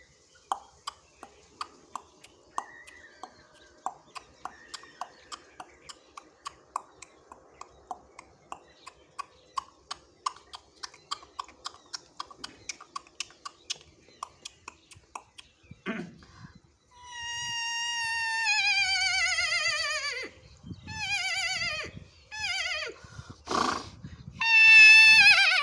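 A man mimics a horse with his mouth: a long run of crisp, evenly spaced clicks like hooves trotting on a road, then loud, quavering neighs and snorts close to the microphone.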